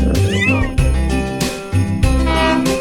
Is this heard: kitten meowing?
yes